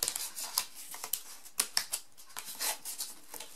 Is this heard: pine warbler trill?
no